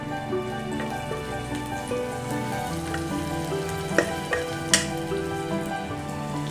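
Shiitake mushrooms stir-frying in hot oil in a pan, a steady close sizzle with a few sharp pops and spatula scrapes, no talking.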